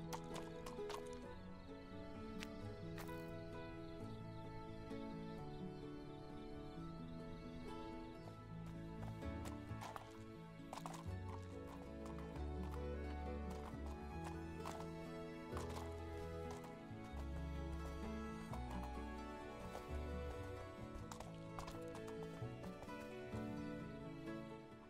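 A horse in a horse-riding video game pulls a wagon, its hooves clip-clopping steadily through a dense layer of game music, with occasional neighs.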